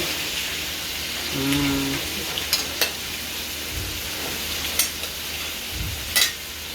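Chicken pieces sizzling and frying in a pan for chicken curry, a steady hiss with occasional clanks of a utensil stirring, heard close, with a low animal-like moan briefly in the background.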